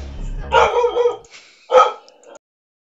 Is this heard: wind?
no